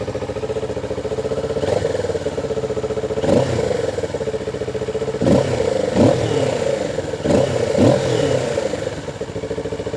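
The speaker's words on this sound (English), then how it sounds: "let's start it up and see what it sounds like on the OEM muffler." A 2024 Kawasaki Ninja 650 engine on its stock muffler idles with a steady low thrum, blipped several times into short revs that rise and fall back, with faint mechanical clatter.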